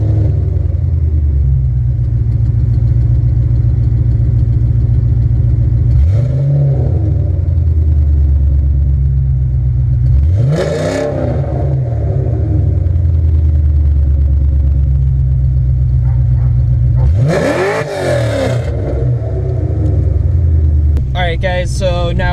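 2003 Ford Mustang Terminator Cobra on the road: a constant deep engine rumble from inside the car, with several rising surges as it accelerates and shifts, while someone talks over it.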